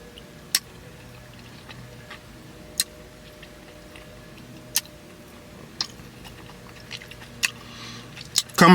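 Bigs fire-flavored sunflower seeds are chewed up close in a quiet room, giving sparse, sharp cracks of shells spaced a second or two apart, with soft crunching between them and a louder burst at the end.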